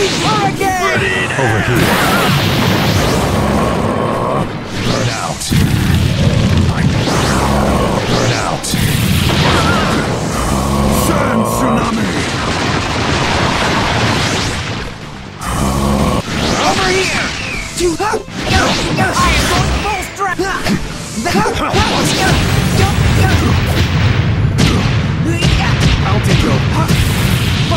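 Fire style jutsu blasts in a Naruto Storm video game: loud booms, crashes and whooshes pile up almost continuously over game music, with voices talking throughout.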